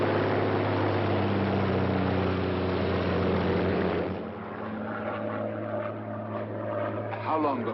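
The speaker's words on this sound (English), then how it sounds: "a Royal Air Force plane is waiting for us at a secret landing place" Royal Air Force propeller plane in flight, a steady loud droning engine hum that carries through the whole stretch, easing slightly midway, with faint voices talking over it near the end.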